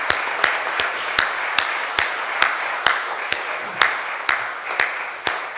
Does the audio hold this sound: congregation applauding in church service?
yes